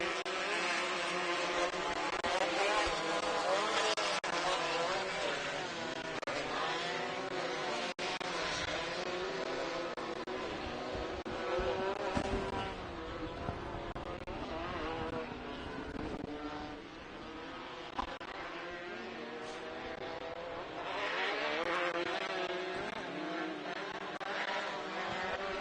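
Limited 1600 buggies race on a short course, with a dense, continuous blend of revving engines that rises and falls as the cars pass. The sound stays loud throughout, with no voices over it.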